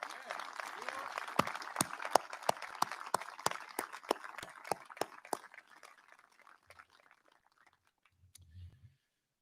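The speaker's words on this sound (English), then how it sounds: "Join me in a round of applause for Cecil Marson." An audience at a garrison change of command ceremony claps in sustained applause with sharp individual claps standing out, gradually thinning and fading out near the end.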